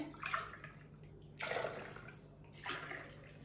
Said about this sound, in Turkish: Üzerine de 4 su bardağı su ilave edecek